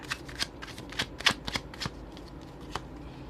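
A deck of tarot relationship cards is shuffled by hand, with quick papery riffles and soft taps close up, fairly quiet and alone.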